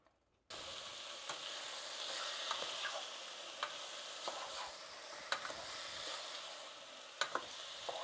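Food sizzles steadily in a pan after a brief silent start, with occasional sharp scrapes and clinks of stirring. The sound is close and moderate in level, and no one speaks.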